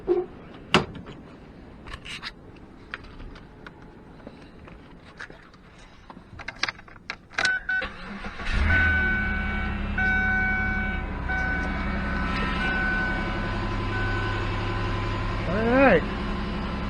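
A 2006 Chevy Impala engine cranks and catches after some clanking and tool clicks, then settles into a steady, loud idle with a low hum and a faint whine that swells briefly near the end.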